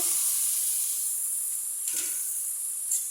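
Taro stolons hit hot fried spice paste in a pan, giving a steady bright sizzle and hiss with a brief burst of crackle near the middle, close and without talk.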